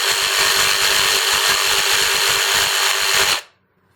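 A Kobalt 24-volt brushless variable-speed keyless jigsaw runs loud and close with its blower on, giving a steady high whine over a fast rhythmic low chatter. It cuts off abruptly near the end, leaving silence.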